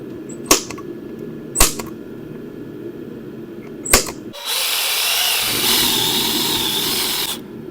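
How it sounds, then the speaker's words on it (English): A power drill bores into the metal wall of a camper, preceded by three sharp knocks or taps, then a steady high-pitched whining grind lasting about three seconds, close and fairly loud. "I can't believe this drill's still working right now."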